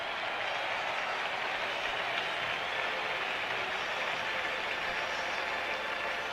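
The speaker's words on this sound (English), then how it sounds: "Brings up Willie Randolph, who should get a big hand from this partisan crowd here." Steady roar of a baseball stadium crowd applauding a batter coming up at the 1977 All-Star Game in New York, a broad, continuous wash of clapping and cheering heard from a distance with no voices.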